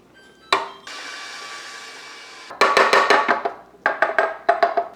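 A stand mixer beating Christmas cookie dough, its motor whirring steadily and then giving way to bursts of rapid knocking and clatter in quick clusters, loud and close.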